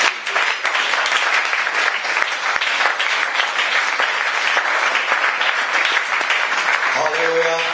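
A church congregation applauds God in loud, sustained clapping that fills the whole stretch without letup, and a voice breaks in just at the end.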